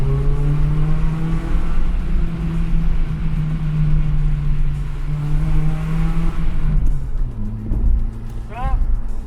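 Car engine climbing through the revs in a tunnel, loud and steady with a rising harmonic whine and a brief higher sweep near the end, over a heavy low rumble.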